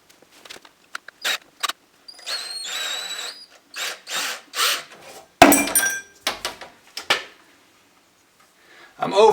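A power drill works screws and bits into wood during a plumbing job, with short whirring bursts and pauses, some rising in pitch, and someone talking between them.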